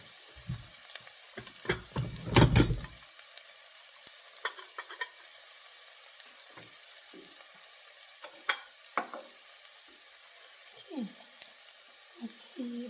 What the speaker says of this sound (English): then you mix together everything with Pav Bhaji masala